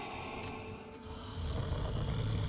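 A creature in the snowy world of Ori and the Will of the Wisps snores softly, a faint low rumble that grows steadier and louder in the second half, with no talking.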